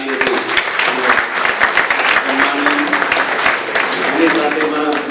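Audience applause at a conference hall, a dense burst of clapping close and loud, mixed with a speaker's voice over it.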